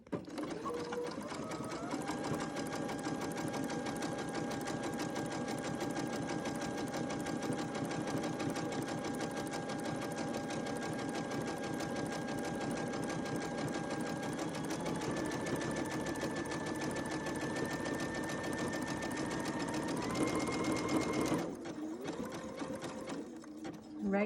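A sewing machine stitches fabric face masks in a long steady run of fast needle clatter, close and continuous, shifting slightly in pitch before stopping abruptly near the end.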